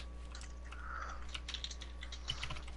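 Quick, light keystrokes on a computer keyboard during gaming, a soft irregular patter of clicks over a constant low hum.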